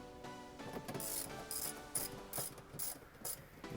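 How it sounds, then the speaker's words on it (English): A ratchet fitted with a 16mm socket, an extension and a 3/8-inch drive loosens the front seat bolts of a BMW E46 M3. Close, rapid clicking of the pawl runs continuously in uneven bursts. "all you need is a 16mm socket like we have here. And I have an extension to make it a little bit easier"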